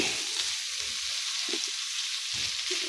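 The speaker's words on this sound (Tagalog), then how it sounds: "ilalagay na natin ang ating gata" Coconut milk is added to Bicol Express in a pan, and the mixture sizzles loudly and continuously with a bright hiss, while soft low thumps of stirring come and go underneath.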